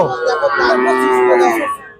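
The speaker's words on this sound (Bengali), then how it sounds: "আপনার হাতে এটা কি গরু" A calf lows loudly and close by at a Bangladeshi calf market, one long sustained moo of about two seconds with market chatter faint beneath it.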